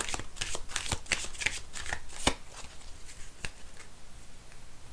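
Tarot cards being shuffled and handled during a reading, a rapid flurry of crisp riffling snaps and slaps that thins into a few scattered taps, close by with no talking.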